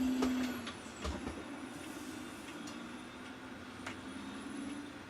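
A Freightliner truck pulling a lowboy trailer: a steady engine drone with a hiss of air, heard from inside the cab, with a few sharp clicks and knocks, alone without talk.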